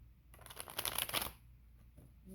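Tarot cards being shuffled, a short, quiet riffling flutter lasting about a second in a calm indoor setting, with no talking.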